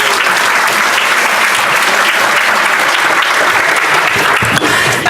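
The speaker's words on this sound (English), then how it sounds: "Round of applause for Denise with Intro to Test-Driven Development and Go" Loud, dense audience applause fills a conference hall as a speaker is welcomed to the stage at a Go programming conference, steady clapping throughout with a brief swell near the end.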